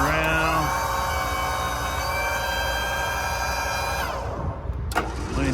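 Hydraulic crane winch on a 2012 Ford F450 V10 crane compressor service truck, a steady mechanical whine and engine drone that holds for about four seconds then cuts off, followed by a brief clunk and quieter rumble.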